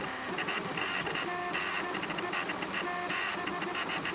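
An Ender 3 3D printer runs at 180 mm/s with 0.2 mm layers, giving a continuous, fairly quiet whirr of stepper motors with shifting whining tones and no speech.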